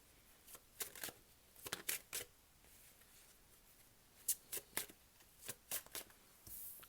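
Tarot cards being shuffled from a deck, a series of quick soft riffling and snapping bursts in two clusters, close and fairly quiet, with no talking.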